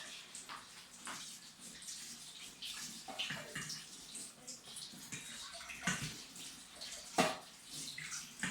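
Strawberries, grapes and blueberries being washed in water, with steady splashing and running-water sounds continuing close by for several seconds.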